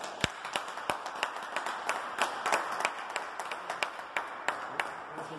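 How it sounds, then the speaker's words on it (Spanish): Applause from a small group at a Rotary Club raffle, a sparse, uneven patter of hand claps with a few sharp individual claps standing out, fairly close and without speech. "Un aplauso para mí."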